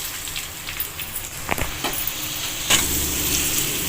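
Sliced onions and green chillies hit hot oil with a bay leaf for a chicken curry, giving a steady, close, hissing sizzle with a few sharp clicks from stirring and no voices.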